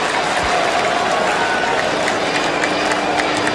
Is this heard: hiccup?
no